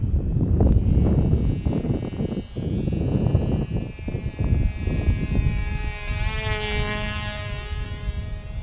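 A lightweight model airplane powered by a tiny 1/2A glow engine buzzes steadily overhead, its high whine holding loud and continuous, then shifting in pitch as the plane passes and banks, with no voices.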